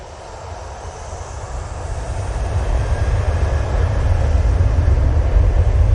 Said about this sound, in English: we'll go on this Jet2 as it turns on